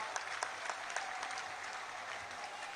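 Crowd applause at a political rally in Baba Bakala, Punjab, with a steady dense clatter of many hands, a few sharper claps standing out, continuing without pause throughout.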